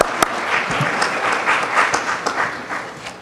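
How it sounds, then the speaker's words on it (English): Gala audience at a Barbados Association of Greater Houston event breaks into steady, moderately loud applause, many hands clapping together without voices for a few seconds. "I'll give applause for that."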